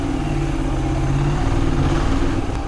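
Heavy Benelli 752S motorcycle engine running steadily up close, a loud, deep throbbing drone that holds even and unbroken throughout.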